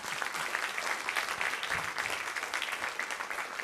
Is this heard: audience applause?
yes